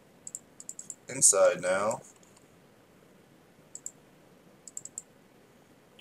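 Computer mouse clicks during font editing work on a PC, a few quick, light clicks in small clusters scattered across the stretch, with a brief bit of speech early on.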